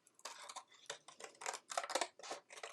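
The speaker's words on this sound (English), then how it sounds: "I'm going to cut along that line" Scissors snip through paper along a line, a quiet run of short, crisp cutting strokes in uneven bursts, close and soft, with no talking.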